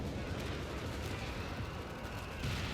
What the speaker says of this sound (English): Lots of fire coming down, lots of artillery.